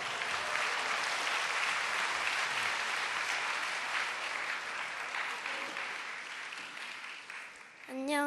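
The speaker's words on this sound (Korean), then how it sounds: "어린이 등장, 박수로 환영하세요" Sustained applause fills a church as the congregation welcomes a child to the front, steady and full for several seconds before a voice comes in at the very end.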